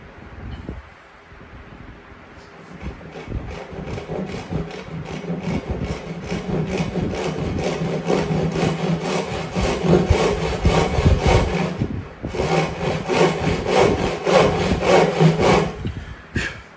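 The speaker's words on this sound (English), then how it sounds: "What you can do, you can also tilt the saw, right? And cut like that" A hand saw cuts through wood for a homemade book press, its steady back-and-forth rasping strokes close and loud, running almost continuously with a brief pause near the end before resuming.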